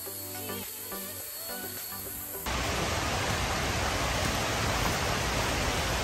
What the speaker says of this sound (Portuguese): Já estou conseguindo ver a Cachoeira da Feiticeira aqui